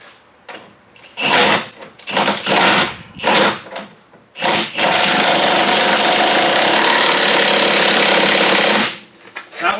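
Power tool tightening a lower control arm bolt on a Mazda 5: several short rattling bursts, then a long, loud, sustained hammering whir of about four seconds, close up, before it cuts off.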